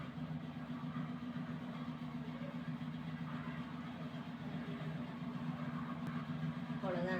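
A kitchen mixer grinder blends cooked tomatoes with a few cashews, giving a steady, low motor drone throughout, with a brief voice near the end.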